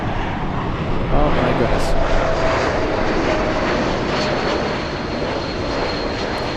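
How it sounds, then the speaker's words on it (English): Lufthansa Boeing 747 jet in special 100-year anniversary livery on final approach at Los Angeles International Airport, a steady, loud engine roar swelling slightly then holding, with a person exclaiming over it. "We have Lufthansa 456, the special 100-year anniversary livery on final approach."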